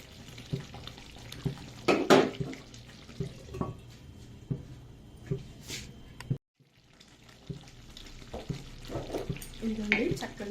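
Mughlai egg curry gravy simmering in a pan, a low bubbling sizzle broken by intermittent stirring scrapes and knocks, close, with a brief full silence partway through.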